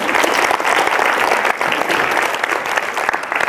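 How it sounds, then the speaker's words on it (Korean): Lecture audience breaking into applause during a talk on Machiavelli's The Prince, a loud, dense burst of many hands clapping that continues evenly for several seconds with no voices over it. "딴 데서는 이럴 때 박수도 많이 쳐주시던데."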